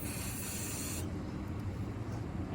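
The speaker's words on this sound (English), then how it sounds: "Then we're going to brake clean or rubbing alcohol." An aerosol can of brake cleaner sprays in a steady, close hiss for about a second onto Camaro catch can parts, then cuts off, leaving a low background rumble.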